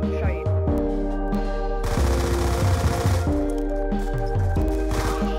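Rapid bursts of automatic gunfire ring out in a Call of Duty match on Xbox, over a game soundtrack, while players chatter over the shots.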